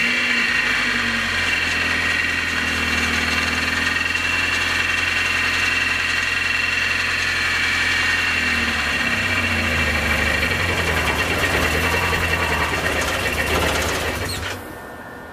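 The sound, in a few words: Nissan 240sx new engine starting and idling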